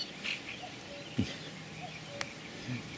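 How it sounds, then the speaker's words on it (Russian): Birds calling back and forth in the countryside beside a pond where crucian carp are being fished, with a few short chirps and whistled notes scattered faintly over quiet outdoor ambience. "Такое впечатление, что птицы между собой общаются."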